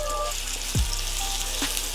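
Chorizo being dropped into a hot pan, with a steady close frying sizzle and a brief thump as the meat goes in.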